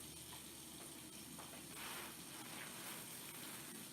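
Cool water runs steadily from a kitchen tap while hands are washed before handling a turkey, a continuous soft gush and patter with brief splashy swells midway, alone without talk.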